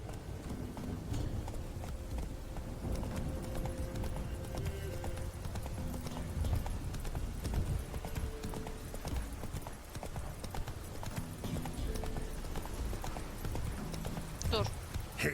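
Roach, Geralt's horse in The Witcher 3, clip-clops along in a steady run of hoof beats under ongoing game ambience, while someone talks over the sound.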